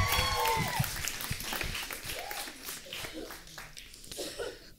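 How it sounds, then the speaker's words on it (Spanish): A roast-show audience claps for the first comedian coming onstage, a busy crowd of applause mixed with chuckles and a voice speaking over it, tapering unevenly. "ya con un fuerte aplauso a la primera comediante"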